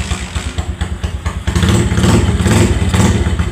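A Sinski 150 motorcycle engine close by, chugging at idle, then catching and roaring louder into a steady, throbbing run.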